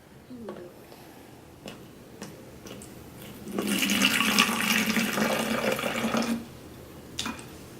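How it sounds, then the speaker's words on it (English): Hydrogen peroxide poured into a bottle, a few light taps and clicks first, then a rushing, gurgling pour for a few seconds that stops abruptly, followed by a faint tap. "let's pour the peroxide on the bottle"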